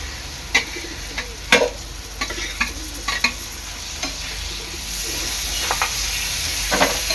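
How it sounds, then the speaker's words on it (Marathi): Finely chopped tomato stir-fried in a pan for Agri Koli style tuna burji, a steady frying sizzle with repeated scraping stirs of a spatula, close and moderately loud, no talking. "चांगलं परतून घ्यायचं आहे त्यामध्ये टाकणार आहे मी बारीक चिरलेला आपला टोमॅटो"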